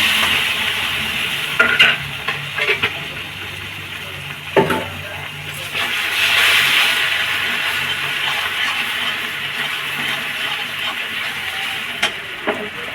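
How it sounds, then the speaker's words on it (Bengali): Sattu flour toasting in a pan for a vegetarian cabbage roll, with a steady low sizzle under repeated scraping strokes of a spoon and occasional knocks against the pan. "ছাতুটা একটু ভাজা ভাজা হবে।"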